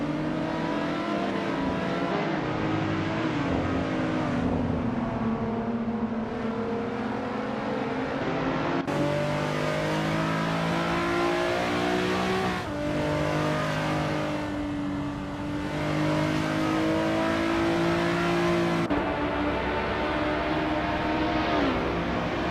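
A 2008 Lotus Exige 240R racing in a video game, its engine droning and revving steadily with shifting pitch, loud and continuous with no talking.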